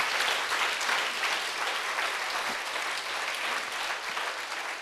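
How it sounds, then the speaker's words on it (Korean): Sustained applause fills a Korean Sunday church service as the congregation claps for the Lord, a dense, even wash of many hands heard at moderate distance with no voices over it. "다시 한 박수로 주님께 영광 돌립니다"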